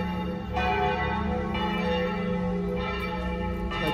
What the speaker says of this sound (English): Let me show you the church bells a little bit.